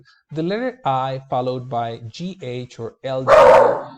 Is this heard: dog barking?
yes